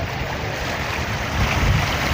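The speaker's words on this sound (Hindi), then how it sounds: "हाँ ये पानी बड़ी तेजी से आ रहा है" Floodwater on the Sutlej river rushes fast in a steady, loud, broadband roar that swells slightly, with no voices.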